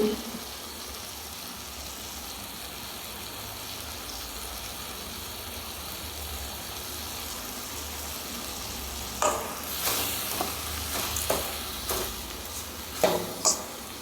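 Zucchini and plantain stem sautéing with salt and tamarind in a pan, giving a low, steady sizzle, and then several closer scrapes and knocks of a spoon stirring toward the end.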